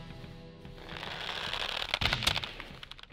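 Musket fire in Totally Accurate Battle Simulator, heard as a tight cluster of sharp crackling shots around the two-second mark that rises over a steady background of battle noise.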